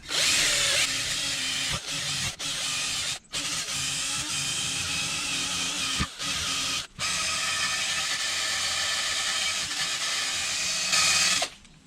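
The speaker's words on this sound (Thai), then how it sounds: "ก็แปลงลวดนะครับ ติดสว่าน" A wire brush mounted on an electric drill strips old paint from a surface, a steady loud whirring grind broken by brief pauses as the drill stops and restarts, with no talk.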